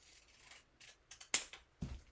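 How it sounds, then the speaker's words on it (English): Pinking shears cutting paper for an art journal, a few soft crisp snips followed by two sharper, louder chomping cuts close up, with no talking. "So adding the pinking shears to it"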